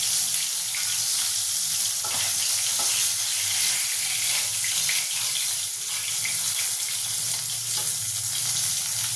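Bhetki fish pieces frying in a pan of oil, a loud, continuous crackling sizzle close by without pause or voices.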